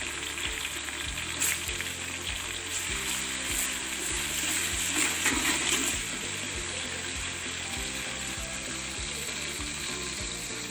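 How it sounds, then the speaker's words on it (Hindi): Onions browning with garlic and ginger paste in a pan for a Pakistani-Indian chana pulao, giving a steady, close sizzle of frying that runs throughout under a continuous musical backing, with no voices. "जब प्याज अच्छे से ब्राउन हो जाएंगे तो हम इसमें लहसुन और अदरक का पेस्ट ऐड करके इसे भी अच्छे से ब्राउन कर लेंगे।"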